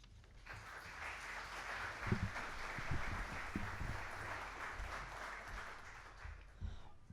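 Sustained applause from a large audience at a keynote lecture, a dense wash of clapping that holds steady and fades slightly toward the end.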